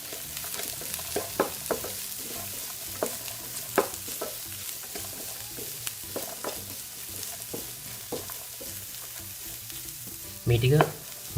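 Chopped carrots and sliced chilies frying in a pan for chicken pasta, a constant crackling sizzle with repeated spoon scrapes and clinks as the mix is stirred, ending in a louder clatter near the close; no voices.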